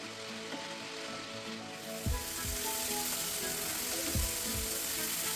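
A spiced prawn filling with turmeric, coriander, cumin and dried chili powder sautés in a pan, with a steady close sizzle and occasional scraping stirs of a spoon, no talking.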